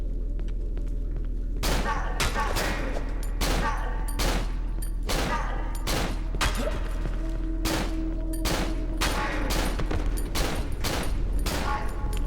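Gunfire rings out in the horror game Cry of Fear as a string of loud, sharp shots, more than a dozen at irregular intervals, over a constant low hum.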